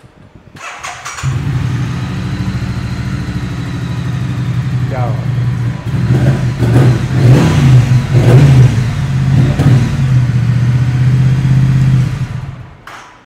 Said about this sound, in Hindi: 900 cc पैरेलल ट्विन मोटर, पहले इसकी आवाज़ सुन लो